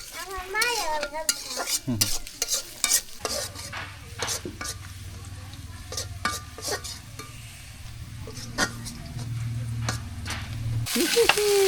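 Khichuri cooking in a pot in a village kitchen, stirred with a steady scraping, clinking rhythm over a soft sizzle, with brief voices at the start and end.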